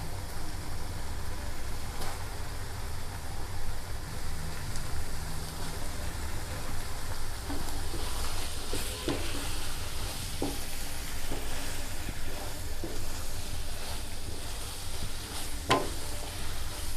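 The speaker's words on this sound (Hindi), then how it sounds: "आलू डालने के बाद आपने 3 मिनट इसको भूनना है" Steady sizzling of potatoes frying in oil in a pan, with occasional scraping and stirring clinks over a constant hiss.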